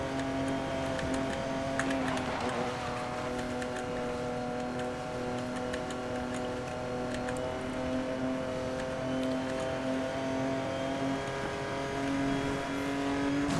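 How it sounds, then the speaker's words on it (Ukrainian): A Lamborghini surges along a highway in Need for Speed: Most Wanted (2012), a steady droning engine note holding high and even throughout, with soft ticking clatter and no speech. "А тут магістраль можна прискоритися. Бо в мене ламборджині, можна на ній швидко їхати."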